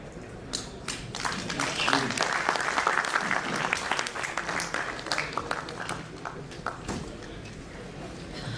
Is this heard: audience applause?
yes